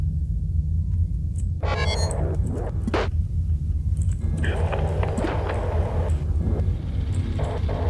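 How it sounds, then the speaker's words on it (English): A drone's wheels grind and rumble in the video game Duskers, a loud continuous low-frequency roll with intermittent higher scraping and whirring bursts layered on top, and no talking. "Oh wow, that wheel noise is loud."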